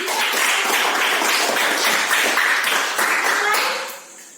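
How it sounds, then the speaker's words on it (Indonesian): A classroom of students clapping for their teacher, a steady patter of many hands lasting about four seconds before fading, with voices mixed in. "Oke, kita tepuk tangan untuk teacher dulu."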